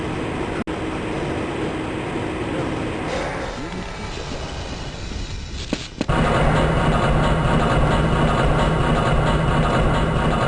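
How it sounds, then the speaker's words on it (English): Tram car rumbling along its track in Half-Life: Blue Shift, a loud steady mechanical drone with rattles, a sharp clunk near the midpoint, then a heavier, fuller roar as it moves on. "This train is inbound."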